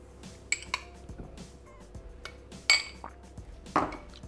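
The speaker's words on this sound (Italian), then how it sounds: "Iniziamo la ricetta mettendo all'interno del boccale lo strutto." Lard being put into the steel mixing bowl of a Thermomix TM6 while making piadina romagnola, heard as a few sharp clinks and knocks of utensils against the bowl, spaced out against a quiet kitchen.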